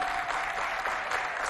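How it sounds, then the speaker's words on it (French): Steady applause from a crowd at a school show, dense and continuous clapping filling the whole moment without pause. "applaudissez pour le lycée féminin qui est là"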